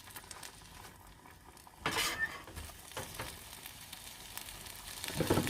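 Salmon cooking in a pan on a camp stove outdoors, a soft steady sizzle with scraping and clinking of a utensil against the pan, a louder stir around two seconds and clatter at the end.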